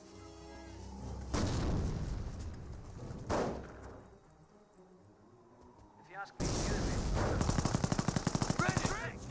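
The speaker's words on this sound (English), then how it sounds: "Grenadiers push way forward, receiving some revolver fire" Company of Heroes 1 battle with grenadiers advancing under revolver fire: scattered bursts of gunfire and dull booms, ending in a loud, rapid machine-gun rattle.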